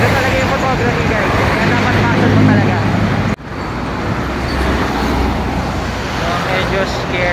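Dense highway traffic with many vehicles rushing past close by, a loud continuous roar broken by one brief drop partway through before the steady wash of passing cars resumes.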